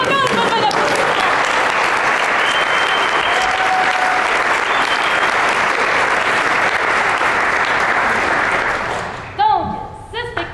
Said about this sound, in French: Encore une fois, bon applaudissement.